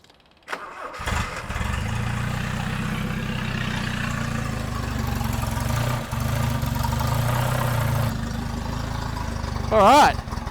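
A Toyota RA28 Celica fastback engine cranks and catches, then settles into a steady, slightly uneven idle that runs near and loud for several seconds, with a brief rev-like swell near the end.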